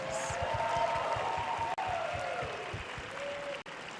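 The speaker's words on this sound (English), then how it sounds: "Let's give all the contestants another big round of applause." Audience applause for contestants at a beauty pageant's swimsuit competition: a sustained crowd clapping wash under loud stage music with a thumping beat, continuous apart from two brief dropouts.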